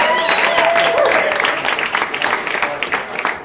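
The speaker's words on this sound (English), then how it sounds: "Clap your hands for my buddy Curtis." Comedy show audience applauding a comedian named Curtis as he takes the stage, a full burst of clapping and crowd noise that stays loud, then breaks into more scattered claps, with a voice briefly over it.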